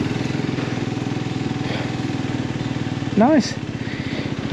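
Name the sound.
Mondial Piega 125cc motorcycle engine starting and idling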